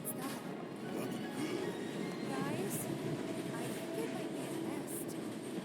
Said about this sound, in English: we can see the trains going by